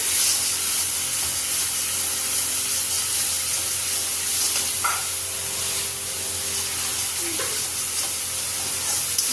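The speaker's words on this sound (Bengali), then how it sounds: "এখন মশলাগুলোকে কষিয়ে নেব। দেখো কষিয়ে নিচ্ছি।" Spice paste of turmeric, chili, ginger and salt sautéing in hot oil for an eggplant and potato dish, a steady broadband sizzle with occasional scraping stirs of a spatula, close and continuous with no talking.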